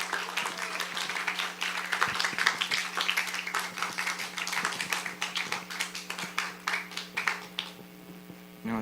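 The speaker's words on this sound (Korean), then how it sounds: "김민준 학생 박수로 맞이해 보겠습니다" A church student-group congregation claps to welcome a student stepping up to give a testimony, a lively run of many hands with some rhythmic, fairly close claps that thin out near the end, with a steady hum underneath.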